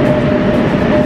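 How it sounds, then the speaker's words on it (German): A passenger train pulls into a station, a loud, close, steady rumble of wheels and carriages with a faint mechanical whine, continuous over about a second with no voices. "Jetzt kommt wieder ein Scheißzug."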